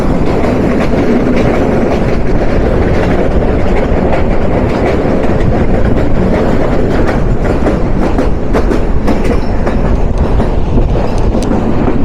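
Titas Commuter train running on the line toward Narsingdi, heard from its roof: a loud, steady rumble with rhythmic clickety-clack of wheels on rail joints and wind buffeting, continuous throughout.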